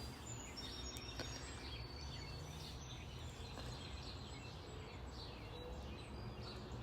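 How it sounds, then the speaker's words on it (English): Birds chirp and call faintly outdoors, scattered tweets rising over a steady broadband hum of open-air ambience, with no one talking. "if you can hear the birds and the world around me, that's what it is"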